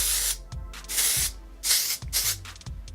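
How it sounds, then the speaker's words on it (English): A can of texturizing hair spray hisses through hair in four short bursts, each a sharp, close aerosol spray separated by brief pauses filled with soft rubbing and handling noises. "start at the roots and then just kind of spray it all throughout"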